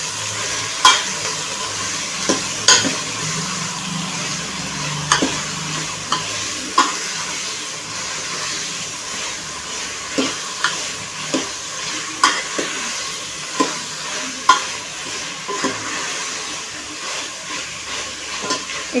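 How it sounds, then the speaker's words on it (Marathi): Mixed vegetables for a rustic Maharashtrian bhogi bhaji sauté in a pan, with a steady sizzle and regular clacks and scrapes of a spoon stirring, close and moderately loud throughout. "आता आपण या भाज्या छानपैकी परतून घेऊया."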